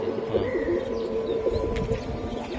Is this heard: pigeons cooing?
yes